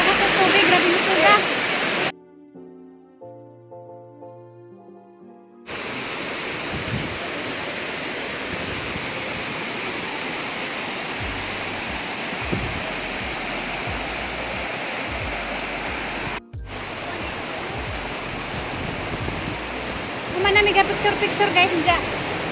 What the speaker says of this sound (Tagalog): grabe lakas sa tubig grabe nito ka